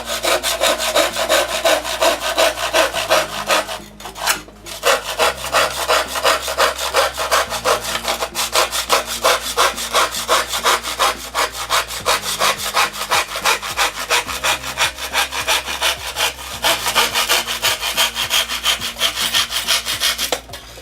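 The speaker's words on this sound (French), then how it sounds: "En utilisant une scie à main" Steady back-and-forth strokes of a hand saw cutting through wood, guided by a sawing jig, rhythmic and close, continuing for a long stretch with a brief pause.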